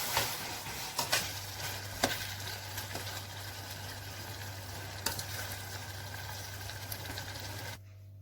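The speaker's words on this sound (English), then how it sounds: "Reduce the heat to very low so it can simmer together." Thyme-and-black-pepper fish stick sauce simmers on very low heat, a steady soft bubbling hiss with a low hum underneath and a few faint clicks, constant and close until it cuts off near the end.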